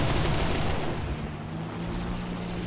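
Rapid aircraft cannon fire from an He219-A7 in War Thunder shooting at a Spitfire, a dense loud burst in the first second fading into steady engine drone.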